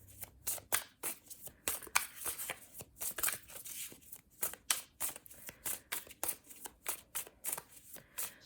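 Tarot cards being shuffled over and over, a steady run of crisp riffling bursts and soft slaps repeating at a quick, fairly even pace, close and alone with no talk.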